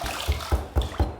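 Hot water splashes and sloshes into a basin for wetting the face before a safety-razor shave, in four soft, evenly spaced pours or scoops over a light watery wash, close and fairly quiet.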